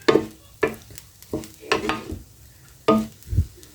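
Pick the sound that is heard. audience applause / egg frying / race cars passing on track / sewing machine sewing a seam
egg frying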